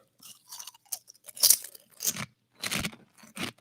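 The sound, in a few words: crunchy snack being chewed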